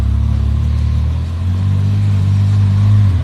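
A red Ferrari GTC4 Lusso, a four-seat grand tourer offered with V8 or V12, rumbles loudly nearby in a deep steady engine drone that rises slightly partway through.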